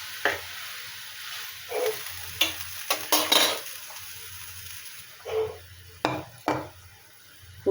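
Cauliflower, potato and koi fish curry bubbling in a pot after water is added, a soft continuous simmer broken by repeated brief stirring scrapes and clinks of a utensil against the pan, close and fairly quiet.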